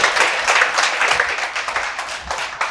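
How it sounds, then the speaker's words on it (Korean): An audience at a Korean civil service exam prep orientation applauds, a dense, steady burst of clapping filling the whole room. "박수 한번 크게 치겠습니다."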